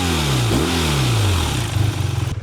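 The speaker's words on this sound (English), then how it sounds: "Actually, the pipe itself's not that loud. A lot of the noise is coming from the airbox and the engine." A 2025 BMW R12 G/S motorcycle revs up and then settles back, its engine, exhaust and airbox heard loud and close, ending in a rough, pulsing idle.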